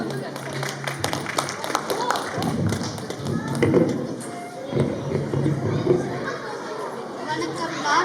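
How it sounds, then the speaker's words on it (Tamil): Audience applause for a child performer at a school Pongal (Tamizhar Thirunaal) celebration: dense, steady clapping mixed with crowd chatter that swells and dips across the stretch. "ஒரு பெரிய கைத்தட்டல் கொடுத்துடலாம்"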